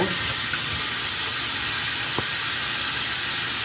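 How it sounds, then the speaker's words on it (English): Cold tap water runs steadily into a sink while callaloo leaves are rinsed, a loud, close, unbroken hiss of flowing water with a faint clink partway through and no talking. "we're gonna rinse now under cold water"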